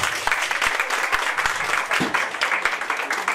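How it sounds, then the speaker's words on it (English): An audience at a Mother's Day celebration in Stuttgart breaks into steady, fairly close applause, a thick wash of many hands clapping throughout with a few sharper individual claps standing out. "Please give him a round of applause."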